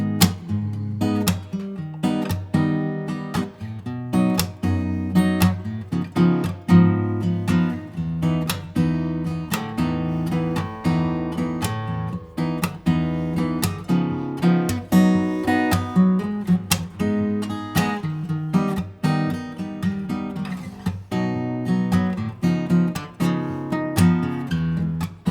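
Guitar strums full chords of a song, a steady rhythmic run of bright strummed chords played close and alone for about twenty-five seconds, with no talking.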